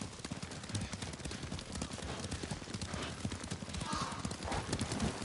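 Horse hooves clip-clop in a steady, rapid rhythm in Ghost of Tsushima, several horses trotting together at close range and fairly quietly throughout.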